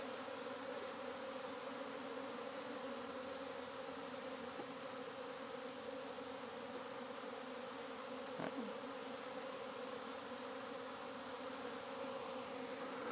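A honey bee swarm hums in a steady, dense drone, a continuous close buzz of many insects with one brief louder pass midway and no voices.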